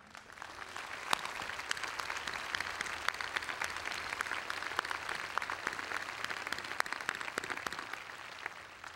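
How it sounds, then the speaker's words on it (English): Steady applause from an audience at a university presidential inauguration, many hands clapping at a moderate distance, sustained without a break. "I ask that we applaud one of the 2 greatest mothers I know, Dr. Ok-Suk Kim."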